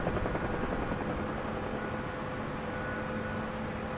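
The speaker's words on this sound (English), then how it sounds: "it is fairly difficult controlling this helicopter right now" A UH-1H Huey helicopter hovering in a flight simulator game, its rotor and turbine making a constant dense whirring drone at close range, with no speech.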